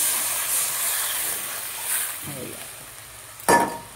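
Water poured into a pan of frying fish sets off a sudden, sharp burst of sizzling and hiss near the end, rising over a steady background of crackling oil.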